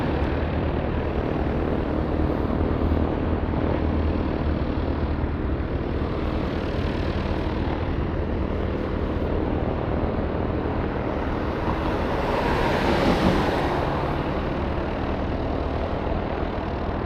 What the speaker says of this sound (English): Got a big plane